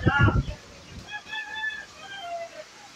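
Chickens cluck and squawk outdoors during a storm, a loud burst at first followed by softer scattered calls, fairly close.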